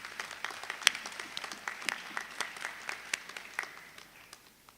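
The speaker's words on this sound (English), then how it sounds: "congratulate them with a big round of applause" Scattered applause from an audience at a university matriculation ceremony, with distinct individual claps standing out in an uneven rhythm, moderately quiet and fading toward the end.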